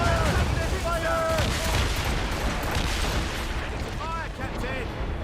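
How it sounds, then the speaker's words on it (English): Ship cannon broadsides in Assassin's Creed Rogue thunder as dense, overlapping booms during a naval battle, while in-game voices shout over the steady roar of the firing. "Give him the broadsides, boys!"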